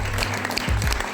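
An audience at a fort-building competition prize-giving ceremony in Ichalkaranji claps together in a dense, loud burst of applause that lasts only a moment.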